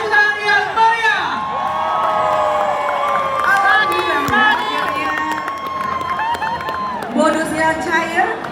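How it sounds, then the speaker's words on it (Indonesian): At a bonus ceremony for Aceh provincial sports-week athletes and coaches, a crowd cheers, whoops and claps in a lively, sustained swell under bright, shrill tones, with voices calling out throughout. "Beri tepuk tangan yang meriah."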